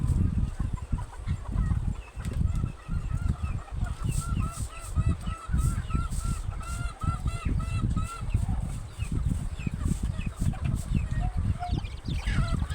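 Chickens, including young white and black native hens, cluck and call repeatedly close by in a busy flock, with constant overlapping chatter and occasional louder squawks.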